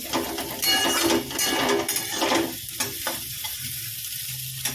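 Fried ingredients being stirred into chow mein in a hot sizzling pan, with a steady crackling sizzle and scraping stir strokes that ease off toward the end.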